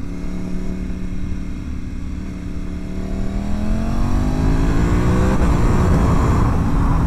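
A 2025 Ducati Panigale V4S Tricolore engine hums near and steadily, then climbs in pitch as the revs rise smoothly through acceleration, with no one speaking.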